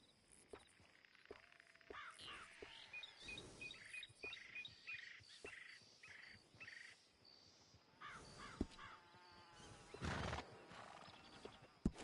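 A horse whinnies in a PS4 video game amid a busy outdoor soundscape of bird chirps and scattered clopping, with a louder burst of neighing near the end.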